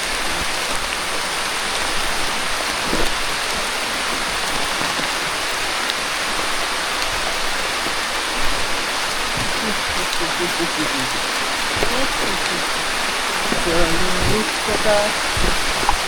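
Steady rain falls on a mountain hiking trail on the Argopuro route via Baderan, a dense, continuous hiss that fills the whole stretch, with brief bits of voices and movement breaking through near the end.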